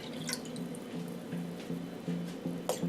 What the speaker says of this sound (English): I'm just pouring the cold, very cold water into the top bowl.